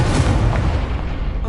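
The Incendio fire spell going off in the Hogwarts Legacy video game: a single loud, close blast with a deep rumbling boom that fades out over a second and a half.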